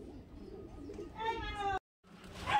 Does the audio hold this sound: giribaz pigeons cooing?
yes